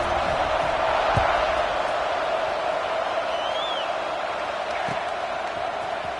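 A college football stadium crowd at an USC–Oregon kickoff gives off a broad, steady roar with a couple of brief thumps, sustained across the whole stretch with no clear speech.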